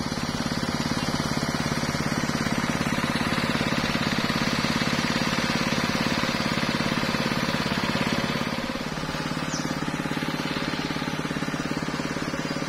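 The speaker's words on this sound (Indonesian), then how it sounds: "ada suara mesin sedot air ya" A water suction pump engine drones and thrums continuously nearby in a village mango orchard, a low mechanical hum, with a slight shift in tone near the end.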